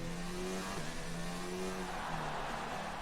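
An F1 car on its final lap of the Mexican Grand Prix in F1 2019 screams continuously at high revs, with a brief dip and rise in engine pitch as it shifts through the final corner.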